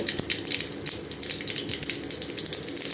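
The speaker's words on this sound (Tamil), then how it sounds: "எண்ணெய் சூடாகிடுச்சு பாருங்கள், கடுகு போட்டு" Mustard seeds crackle and splutter in hot oil in a pan while a bachelor-style rasam is cooked. The sizzling is loud and close, with dense, irregular pops and hissing bursts.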